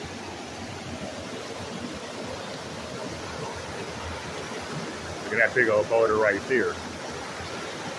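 Constant roar of a rushing, cold river near a waterfall and a big boulder, where gold is being panned, a close, even wash of water that stays steady while someone speaks briefly near the end.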